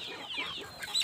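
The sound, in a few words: chickens clucking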